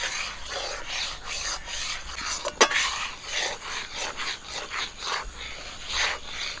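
A spoon works through melted sugar caramel in a pan for raw mango aamsatta, making repeated rhythmic scraping strokes close by, with one sharp knock partway through.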